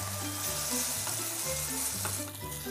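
A fried egg sizzles in a dry pan with no oil, a steady crackling hiss running throughout with a few low background thumps.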